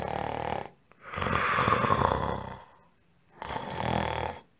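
A voice imitates the loud snoring of an ogre wolf asleep in a forest in a French children's story: two long, rasping snore breaths with a pause between them, close and fairly quiet.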